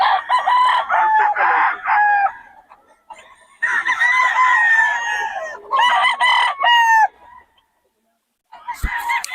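Young chickens clucking and squawking up close at a market, with young roosters crowing in raspy, breaking calls, loud and overlapping, then a brief pause before more calls.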